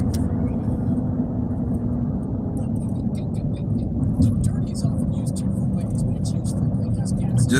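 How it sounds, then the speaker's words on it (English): Road traffic rumbles past in a steady low drone with occasional faint higher clicks, a continuous wash of passing vehicles at moderate distance and no clear single pass-by. "Oh man, here go traffic."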